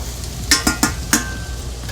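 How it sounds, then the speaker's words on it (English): Onions frying in grapeseed oil are stirred around a pan, giving four short scraping clinks in quick succession over a low steady sizzle, with no talking. "Put in the onions, stir it a little bit."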